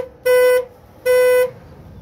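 A Ford Windstar van horn being tested during a steering-wheel horn fault repair: two loud, steady honks of about half a second each, separated by a short gap.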